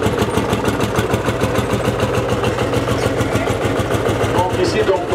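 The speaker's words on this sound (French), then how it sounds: "Donc c'est du monocylindre à boule chaude." An antique single-cylinder hot-bulb engine runs steadily at a harvest festival parade of old machines in Blodelsheim, with loud, close, even rhythmic thumping and people talking over it.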